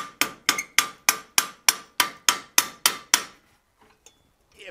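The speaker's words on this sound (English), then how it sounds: "you can come in here and you can hammer over this stake" Eleven sharp, ringing hammer blows on metal over a ball stake fall in a steady rhythm, each with a brief metallic ring, then stop, leaving a few faint clinks.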